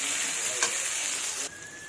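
Onions frying in a pan with a little salt, giving a steady close sizzle throughout, with a brief scrape of stirring partway and a drop in level near the end.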